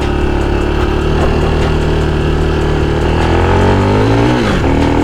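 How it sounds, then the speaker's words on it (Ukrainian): A Honda XR250 motorcycle pulls steadily in second gear, its loud, close engine droning continuously with a rising tone and a brief dip near the end. "навіть на другій передачі він тягне і їде"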